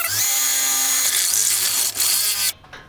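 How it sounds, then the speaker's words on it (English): A step bit (unibit) on a power drill bores quickly through a BMW E30 door card to make a plunger hole, a loud, steady high-pitched whine that holds for about two and a half seconds before cutting off abruptly. "I'm just using a unibit like this, a step bit. These work great, just to drill this out real fast."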